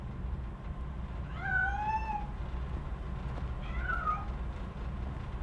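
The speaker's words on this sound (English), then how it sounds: "That cat must be hiding inside." Two distinct cat meows in the video game RoboCop: Rogue City, the first drawn-out and wavering, the second shorter a couple of seconds later, moderately close over a steady low background hum.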